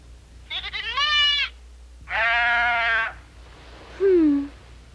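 Three goat bleats in turn in an animated series, the first two long and wavering, the last shorter and lower, fairly close with quiet pauses between.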